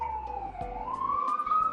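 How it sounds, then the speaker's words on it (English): A police siren outside in the street wails steadily, one long rising and falling tone at moderate distance, heard alone without talk. "Like sirens all the time, so I get it."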